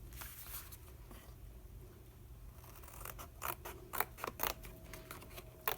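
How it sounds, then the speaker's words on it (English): Scissors snip off a strip of craft material in a series of quick, crisp cuts near the mic, following a quiet stretch with faint background hum and no talking. "And we're going to cut that off."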